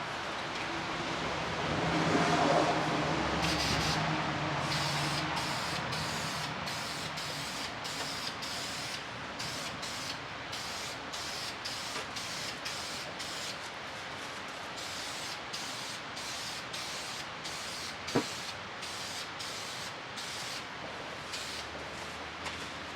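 Krylon Color Master spray paint hisses steadily from an aerosol can in light coats, a continuous close spray with short breaks and bursts between passes.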